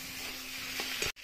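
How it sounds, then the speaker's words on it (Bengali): Potato and pointed gourd curry fries with spices in a pan, giving a steady close sizzle with a couple of faint stirring scrapes before a brief cutoff. "এবার মশলা দিয়ে আমি ভালো করে নেড়ে চেড়ে নিই"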